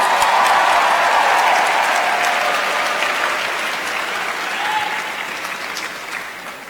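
Loud, full applause from a large crowd at a university welcome event in Arizona, a dense roar of clapping with some cheering, strongest at the start and slowly easing over several seconds.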